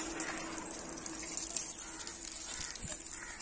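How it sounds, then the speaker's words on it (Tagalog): A child splashes and plays in water that runs steadily, with a faint continuous flow and small irregular splashes, heard quietly throughout. "lalaro siya ng tubig"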